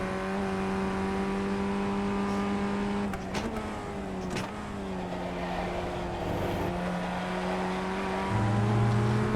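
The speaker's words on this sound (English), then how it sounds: "Alton Park and the Formula Ford 1600 are a good combo, I think." Formula Ford 1600 race car at Oulton Park, its engine droning steadily at high revs with pitch shifts through gear changes and a couple of sharp clunks, continuous and close throughout with no talk.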